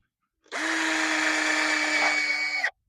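A power drill fastens brackets onto wall studs while kennel flooring is being set up, giving one close, loud, high whine that holds steady for about two seconds before stopping.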